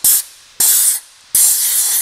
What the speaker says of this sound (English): I'm just going to speed it up a little bit with the blow-off nozzle here